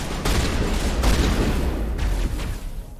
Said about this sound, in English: That's a plasma rifle sound.